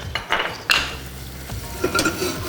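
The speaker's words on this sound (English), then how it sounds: "So we've sweated some onions in some butter like this here" Finely chopped onion sweating in butter in a pan, a soft steady sizzle broken by a few spoon scrapes and light clinks, close and quiet with no talk.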